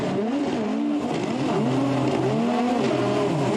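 A black Nissan S14 and a Toyota A90 Supra battling in a Formula Drift Japan Top 16 run at Gransnow Okuibuki: engines wail and swoop in pitch under full revs, with a continuous tire-smoke hiss, loud and sustained.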